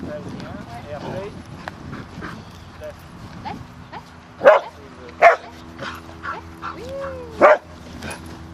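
A herding dog working a flock gives three sharp barks, close and loud, spaced apart, over a background of someone talking and faint shuffling.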